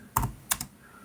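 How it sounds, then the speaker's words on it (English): Two-finger-style pecking on a computer keyboard, actually one finger at a time: a single sharp keystroke followed by a quick pair of taps, close and quiet, with no talking. "so forgive me that I'm typing like a little child"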